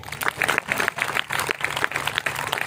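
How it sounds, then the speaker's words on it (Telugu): A church congregation at a Telugu gospel meeting clapping their hands together in a steady rhythm, the sound loud and near with many hands striking in time. "చప్పట్లు కొట్టండి."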